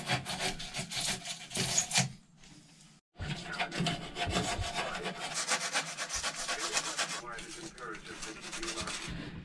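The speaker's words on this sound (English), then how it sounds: "I'm just cutting down the foam where it's kind of expanded outwards so that we can put the panelling up" Expanded foam insulation being cut down inside a sailing yacht under refit: continuous close, coarse rasping and sawing strokes that pause for about a second, then resume steadily.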